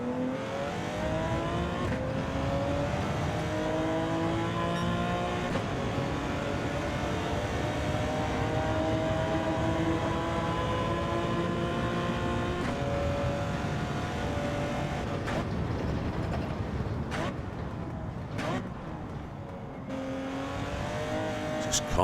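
A Porsche 917 race car in Gran Turismo 7 roars continuously at high revs during a Le Mans race, the engine note rising and falling through gear changes with brief sharper shifts near the end.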